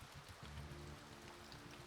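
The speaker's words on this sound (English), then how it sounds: "Well, it's raining pretty hard." Steady rain falls in the video game Demons Roots, a soft, continuous hiss of heavy rainfall that stays faint and even throughout, with no voices.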